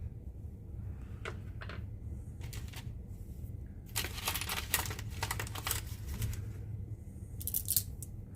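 Handfuls of rocks being grabbed and spread out across a surface, giving scattered clattering and scraping bursts, some close and sharp, others lighter, over a steady low background hum.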